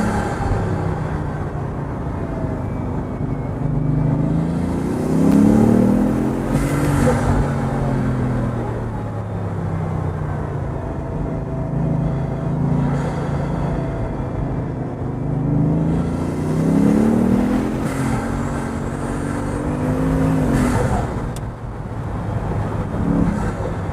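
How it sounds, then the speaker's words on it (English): A powerful sports car engine roars and surges in long waves of acceleration, with rising pitch sweeps and steady road and wind rumble throughout. "What a great car."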